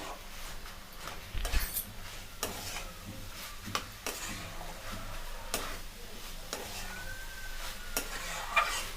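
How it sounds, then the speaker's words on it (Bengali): Tomato masala for chana dal (cholar dal) being sautéed and stirred in a pan, with a soft continuous sizzle broken by scattered spoon scrapes and clinks, close by and with no one talking. "ঠিক 2 মিনিট ধরে আমরা ভালো করে কষিয়ে নেব"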